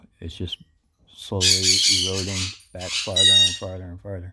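Pet parrots let out loud, harsh, drawn-out squawks at close range in two long bursts, with someone talking briefly before and between them.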